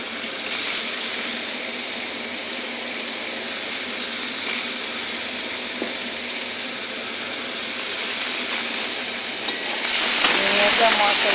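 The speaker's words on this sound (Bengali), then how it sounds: "ঝিঙেটা মশলার সঙ্গে ভালো করে মিশিয়ে নিই।" Sliced ridge gourd fries with spices in a pan while being stirred, a steady broad sizzling hiss with light scraping that grows louder and brighter toward the end.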